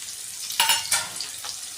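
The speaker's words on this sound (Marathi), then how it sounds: "छान परतवून घ्यायचं आहे त्याला तेलामध्ये कांदा तळवताना तो सुट्टा करून घ्यायचा आहे" Sliced onions fry in hot oil in a pan for kadhi pulao, giving a steady close sizzle with a couple of louder bursts as they are stirred.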